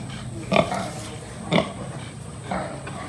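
A pig on a farm gives three short grunts about a second apart, fairly close and moderately loud, with the last one softer, over a quiet background.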